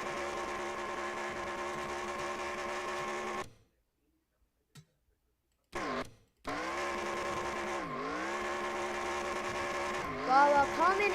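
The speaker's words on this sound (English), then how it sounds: "Big burnout for Bowman." A car does a burnout in a sim racing game at Circuit of the Americas, its engine screaming at high revs with rising and falling pitch sweeps and a brief cutout partway through, while commentators talk.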